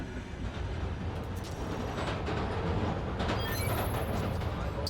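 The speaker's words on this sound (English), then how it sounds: "Hearing the clatter of the wheels, the squealing when the trains turn or stop" Train wheels clattering along rails in the Spider-Man Miles Morales video game, a loud continuous rumble with rhythmic clacks and a brief high metallic squeal near the end.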